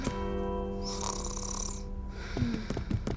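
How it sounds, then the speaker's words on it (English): A cartoon mother snores loudly and close by, one long drawn-out wheezing snore with a rasping breathy middle. Softer rustling and clicks follow after it. "It was Mom snoring all along?"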